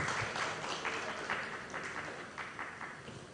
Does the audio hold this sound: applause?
yes